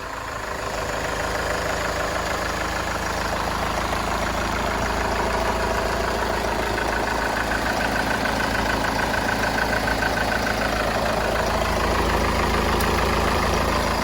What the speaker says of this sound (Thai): นี่รถสตาร์ทติดง่ายนะครับ